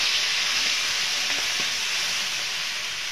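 Onion and garlic paste frying in hot oil for a chana dal dish, a loud, steady sizzling hiss that fills the whole stretch with no break, close by, with no voices.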